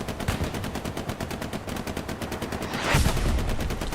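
Artillery barrage in Hell Let Loose pounding a position, a steady roll of rapid distant firing with a heavier blast swelling near the end, no voices.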